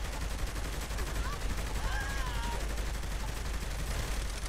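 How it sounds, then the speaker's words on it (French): Machine gun fire in the video game Saints Row The Third, rapid bursts of gunshots heard fairly faint within a busy game soundscape, with people talking over it. "On va prendre une mitraillette."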